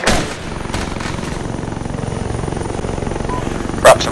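A helicopter in the video game Arma 3 thrums with a loud, steady rotor pulse while gunfire crackles around it, ending in a sharp burst near the close.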